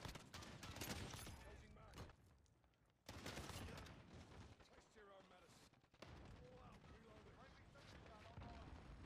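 Bursts of shotgun fire from a shooter game match on the Road to Damascus map, coming in loud clusters separated by short near-silent gaps, with a voice talking between the shots.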